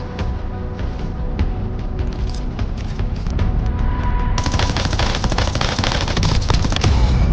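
Rapid gunfire in the Black Ops 7 video game, dense crackling bursts and shots running continuously and growing louder partway through, with no talk.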